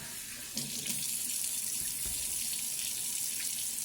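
Tap water runs steadily into a sink, splashing and shifting as peppers are rinsed under the stream, close and continuous.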